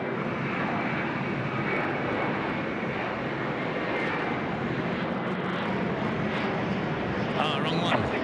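A Qantas aircraft at Sydney Airport gives a steady, loud broadband engine roar that holds evenly throughout, with faint background voices underneath.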